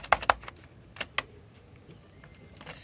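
Keys on the keyboard of a 1994 Packard Bell Legend 12CD computer are pressed in a few sharp, close clicks: a quick pair, then two more, then fainter taps in a quiet room.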